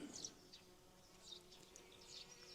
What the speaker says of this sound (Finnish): Ja pörinä käypi, meillä on pölyttäjiä kyllä.